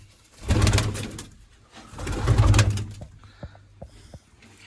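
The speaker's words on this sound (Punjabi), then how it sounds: "ਹਾਏ ਵੱਡਾ ਕਬੂਤਰ ਆ" Pigeons coo in two deep, rolling bursts nearby, followed by quieter scattered clicks and soft rustling.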